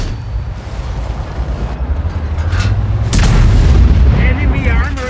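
A Ho-Ri 3 tank destroyer in World of Tanks fires its cannon with one heavy boom partway through, set against constant low engine rumble and battle noise, while a voice speaks.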